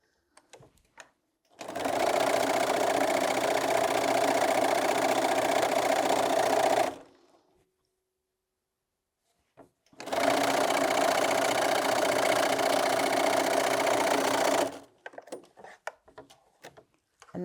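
A sewing machine stitches a 2.5 inch quilt strip in two long, steady runs of loud, even whirring, separated by a brief pause, with faint handling clicks around them.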